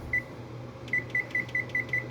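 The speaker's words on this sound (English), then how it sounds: "Oh, we gotta set our timer." Kitchen timer being set while home-canning garden pickles: a single short beep, then a quick regular run of six bright electronic beeps, close and clear over faint room noise.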